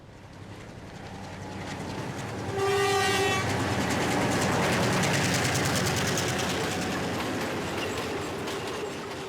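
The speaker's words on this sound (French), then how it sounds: "Une voie ferrée longe toute la ligne de crête, où le train est encore utilisé par tous les employés des plantations" Train on a mountain railway through Sri Lanka's tea country, a rolling rumble with clattering wheels and a loud horn blast that begins a few seconds in, the rumble then continuing steadily.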